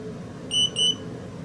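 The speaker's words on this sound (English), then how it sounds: "Your pod will then be deactivated and you'll be able to hear it beep." An Omnipod insulin pump pod being deactivated gives two short, high electronic beeps in quick succession, clear and close over quiet room noise.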